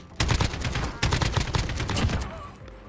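Automatic weapons fire in the Call of Duty Warzone video game: a burst of rapid shots, a brief gap, then a second, longer close-range volley that tails off.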